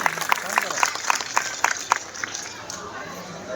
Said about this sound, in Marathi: जोरदार टाळ्या आपल्या पोलीस बांधवांसाठी या ठिकाणी।